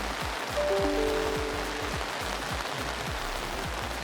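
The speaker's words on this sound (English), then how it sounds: "You can really see the rain coming down" Rain pours onto a lake during an RC sailboat race, a steady, dense hiss of drops on water, with soft low thumps recurring at regular intervals underneath.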